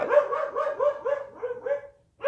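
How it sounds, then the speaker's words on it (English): A dog barks at the postman knocking on the door, a quick run of about eight close, loud yapping barks in steady rhythm, followed by a short pause and one more bark. "Postman knocked on the door and the dog was barking, so you may have heard her barking"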